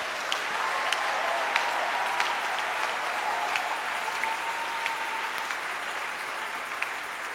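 A church congregation applauds in a sustained, dense round of clapping that holds steady from start to finish, with no speech over it.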